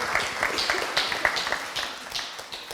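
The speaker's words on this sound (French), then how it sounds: "On peut l'applaudir, hein?" A church congregation applauding during a Palm Sunday service, a thin, loose patter of handclaps that is moderately quiet and fades toward the end.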